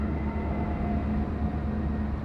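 A Norfolk Southern coal train rumbles past a high school football field at a coal export terminal, a steady close rolling drone with a faint tonal hum and no voices.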